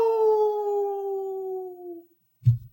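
A man imitates a wolf howl with his voice, one long steady sustained howl fading out after two seconds, followed by a brief bump of sound.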